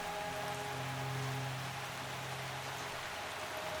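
Steady rain falling on surfaces outdoors, a soft even hiss of drops that runs throughout at low level, with no voices.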